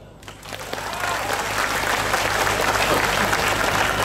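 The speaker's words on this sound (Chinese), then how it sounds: "有听过的拍手" An audience at a coffee-shop political forum in Johor breaks into applause that swells within the first second, then holds as a dense, steady wash of many clapping hands.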